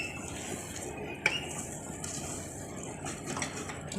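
Pumpkin dal being stirred in an opened pressure cooker, a thick, steady scraping and churning close by, with one bright metallic clink partway through.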